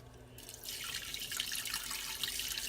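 Water from a kitchen tap starts up and pours steadily into a stock pot for chicken stock, a close, continuous hissing splash that holds at an even level after the flow begins.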